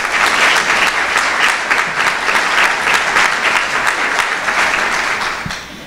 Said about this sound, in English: I ask that you give yourselves a round of applause